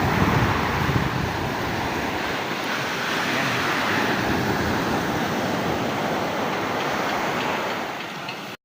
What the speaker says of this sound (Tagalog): ang dagat dito maalon no laki ng alon